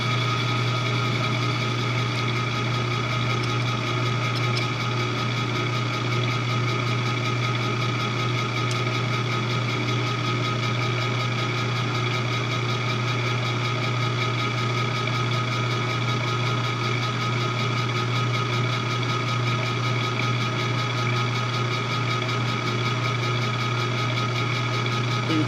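An Acra milling machine cuts at twice the feed rate with a steady, loud mechanical drone and whine that holds an even hum throughout, with no voices.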